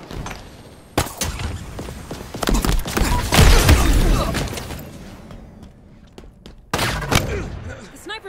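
Gunfire in the Halo Infinite video game during a capture-the-flag match with a sniper, loud sharp bursts near 1, 3.5 and 7 seconds with lingering echoing tails over game noise and faint voices.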